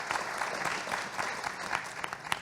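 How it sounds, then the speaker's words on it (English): Audience applause at an annual forum, moderately quiet, steady clapping from a seated crowd with a few sharper individual claps standing out near the end. "Let's give him a round of applause."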